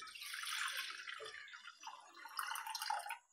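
Water is poured into a pressure cooker in a home kitchen while making ragi kali, giving a faint, splashy trickling stream that swells and fades for about three seconds before stopping.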